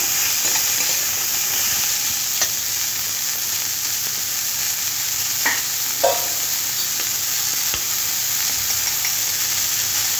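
Vegetables with capsicum and onion stir-fry in a pan, a steady close hiss and sizzle with occasional faint scrapes and taps of stirring.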